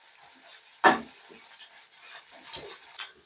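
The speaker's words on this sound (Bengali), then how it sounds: "বাকি দুটো ডিমও ভাজা হয়ে গেল তুলে নিচ্ছি" A duck egg omelette fries in a pan with a soft sizzle, broken by a sharp scrape or clank of a utensil against the pan and a few lighter stirring knocks.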